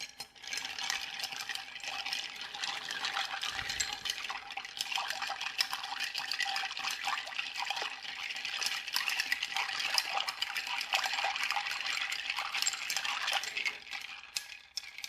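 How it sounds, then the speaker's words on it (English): Ice rattles continuously against a mixing glass as a rye or bourbon Manhattan is stirred, a steady, busy clinking close by with no talk. "And we're going to stir."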